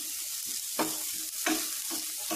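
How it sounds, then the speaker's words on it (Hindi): Mushroom, cabbage and capsicum fry in a pan for hot and sour soup, a steady close sizzle broken by three louder bursts of stirring. "इसे हम फ्राई कर लेते हैं।"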